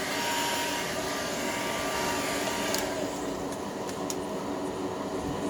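A heat gun blows a continuous, even whooshing hiss while setting glow-in-the-dark paint on a fishing lure, with a few faint clicks near the end and no talking.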